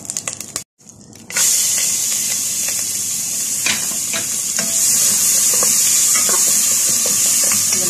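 Onions frying in melted butter in a pot while being stirred, a steady loud sizzle with scraping stir strokes after a brief silent gap near the start.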